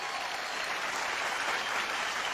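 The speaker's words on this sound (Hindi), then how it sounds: "मैं चाहूंगा कि इन सब लेजेंड्स के लिए एक बार जोरदार तालियां।" An award show audience applauds loudly and steadily, dense clapping filling the whole stretch without a break.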